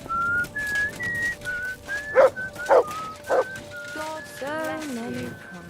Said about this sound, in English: Good dog, Mutz. Show me